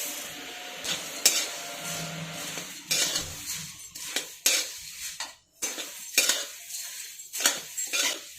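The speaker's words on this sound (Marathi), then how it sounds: "आता राहिलेले मुरमुरे आपण परतून घेऊ." Puffed rice roasts over a low flame in a pan, with repeated scraping and clattering strokes of a metal spoon stirring it and a faint sizzle underneath, close by and irregular in rhythm.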